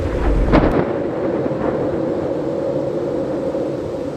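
A thunderstorm with rain over the Chandaka forest, with a heavy rumble and a sharp crack at the start fading into a steady, dull roar of wind and rain.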